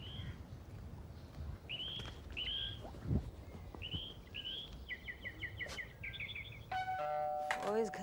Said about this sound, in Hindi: और इस घर की घंटियां बजनी बंद नहीं होती।